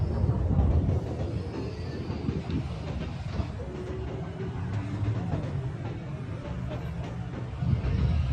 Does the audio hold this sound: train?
yes